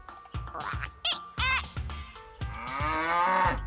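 A cartoon cow moos in a few loud, close, drawn-out calls, with short quacking-like bursts mixed in among them and no talking.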